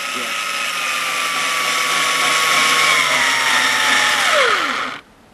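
A power drill whirs steadily while boring into a floor sander part at an angle, loud and close, its pitch sagging near the end before it cuts off abruptly.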